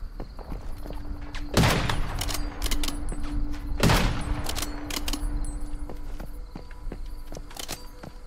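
Automatic gun turret firing in the video game Once Human, two loud bursts near the start and middle ringing out over a steady mechanical drone, with lighter clicks and thumps scattered through the rest.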